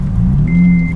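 Brief rev of an Acura TL Type S through its exhaust, a steady mid-pitched engine tone with a whine rising partway through, close and fairly loud, no talking.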